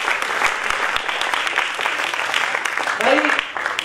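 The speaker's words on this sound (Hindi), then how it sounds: "एक बार जोरदार तालियां बजा दीजिए" Audience at a children's education convention in New Delhi breaks into loud, steady applause, a dense wash of many hands clapping throughout with some crowd noise.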